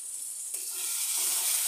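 Whole spices such as cardamom, cinnamon and cumin hit hot oil for a fish-head curry, giving a steady, close bright sizzle that builds slightly and runs continuously without talk.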